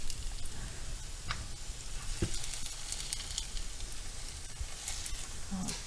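Thin Polish crepes (naleśniki) fry in a pan with a constant bright close sizzle and faint crackle, scattered ticks and pops throughout, and no talking.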